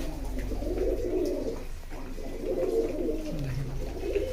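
Male pigeons coo in steady, overlapping low rolling calls that carry on without pause, close by and fairly loud against a constant low hum.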